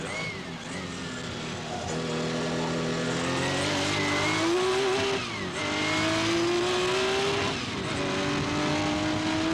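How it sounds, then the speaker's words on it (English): A Porsche 935 race car at Le Mans downshifting for the slow Mulsanne corner: a loud, sustained engine roar with pitch drops and blips as gears change, heard from on board. "Mulsanne, the corner coming up, is the slowest corner in Le Mans, downshifting to 60 kilometers."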